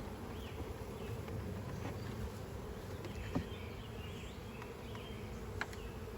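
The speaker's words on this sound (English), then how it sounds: "Say goodbye to my bees." Honey bees at a hive, a steady close buzzing drone with individual bees flying past, continuous and even throughout.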